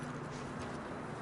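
Horse hooves clip-clop in Red Dead Redemption 2, a soft, faint and steady patter of hoofbeats on the trail with a low hum beneath, no voices.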